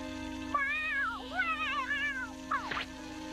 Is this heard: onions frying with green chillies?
no